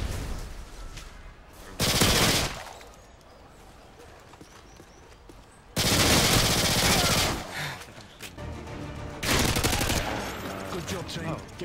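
ACR rifle gunfire in a video game, three loud bursts of rapid automatic fire, each lasting a second or more, separated by quieter stretches of game ambience.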